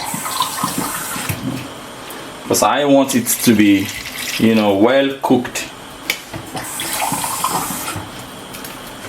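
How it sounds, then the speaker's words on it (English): Water pours into a steaming pot of chicken stew, a steady splashing stream that comes and goes across the stretch while someone talks over it. "And then I'm going to be adding more water,"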